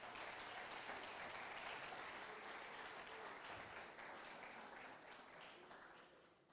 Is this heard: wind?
no